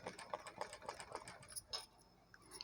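Sewing machine stitching a cut-work blouse, its needle running in quick bursts of rhythmic mechanical clatter, close and steady, pausing and slowing near the end.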